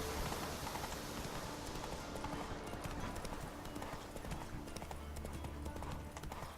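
Horse hooves clip-clopping in The Witcher 3 open-world game, a steady rhythmic trot running under continuous game ambience and music throughout.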